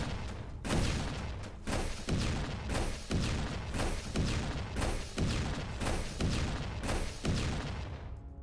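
In the dungeon game Dungeon 100, a fire build sets off a rapid, unbroken barrage of explosions. Loud, crunchy blasts follow each other every half second or so, overlapping into a continuous rumble.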